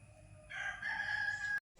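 A rooster crows once, a loud drawn-out call lasting about a second over faint low background noise, then cutting off abruptly.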